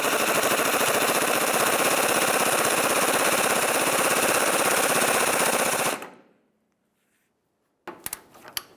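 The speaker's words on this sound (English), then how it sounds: "make your way back underneath the corner of the vehicle and tighten that mounting bolt." A body mount bolt being tightened under a 2003-2011 Mercury Grand Marquis, heard as a loud, steady mechanical rattle for about six seconds that cuts off into silence, followed by a few brief sharp bursts.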